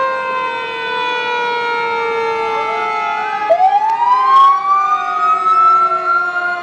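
A fire brush truck siren blares loudly nearby in a Christmas parade in Wells, Maine, its long wail dipping and then climbing steeply, layered over a steady horn-like tone.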